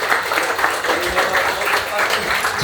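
Steady, dense applause fills a hall at a football club community gathering in Anyang, sustained and close with no break throughout.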